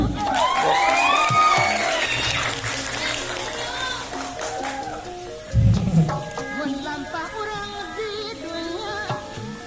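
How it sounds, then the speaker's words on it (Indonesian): Scattered audience applause and cheering at an award ceremony for a regional festival, rising as a third-place winner is called, mixed with a presenter's voice and music-like tones, with a brief loud burst midway. "Nggak ada tepuk tangan buat Cynthia gitu."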